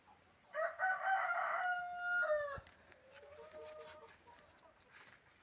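A rooster crows loudly once, a long drawn-out call, followed by softer clucking and chirping from nearby fowl.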